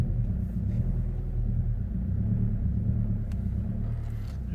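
A Vauxhall Astra J 1.7 CDTi diesel hatchback showing a 'Service Vehicle Soon' fault message, driven slowly outdoors: a steady, low engine rumble close by that holds even throughout, with no talking.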